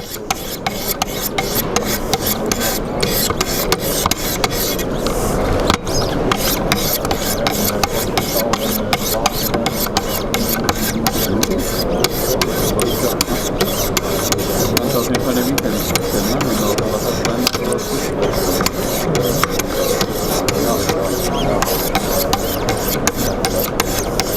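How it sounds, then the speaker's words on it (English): Rapid, repeated rasping strokes of a Wicked Edge sharpening stone scraping across a knife blade, steady and close, with a gritty texture throughout and faint talk underneath. "you should be able to hear the difference in the stone going over the blade"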